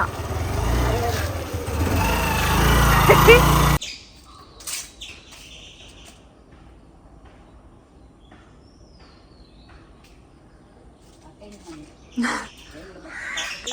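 A crow caws a few times in the distance after a burst of loud broadband noise, with faint chirps and background rumble.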